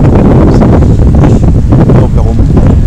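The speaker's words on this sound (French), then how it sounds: "donc là, il y a un petit peu de vent" Wind buffets the microphone of an Akaso Brave 7 LE action camera, producing continuous loud low-frequency rumbling and gusting noise that dominates throughout.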